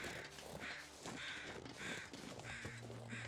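Crows caw repeatedly in The Long Dark's snowy wilderness, harsh calls arriving in a steady series of five or six at moderate distance over a faint windy background.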